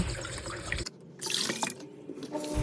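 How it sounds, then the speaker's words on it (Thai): Sticky rice is washed by hand under a running tap, with gushing water, splashing and swirling in a sink heard nearby, broken by brief pauses in the flow. "เปิดน้ำแล้วก็ ซาวๆข้าวแบบนี้ค่ะเอามือวนๆไป"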